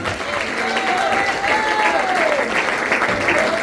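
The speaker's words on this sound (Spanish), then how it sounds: "Quiero ofrenda de palmas a Jesús." A church congregation claps in an offering of applause to Jesus, steady dense clapping filling the whole stretch at a fairly close, even level, with a sustained voice or tone gliding faintly above it.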